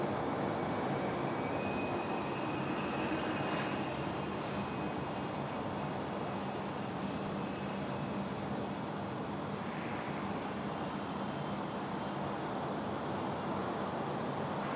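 An airliner at Sydney Airport, departing on a long-haul flight to Los Angeles, gives a steady broadband jet roar lasting the whole stretch, loud and constant without letup, with no talking.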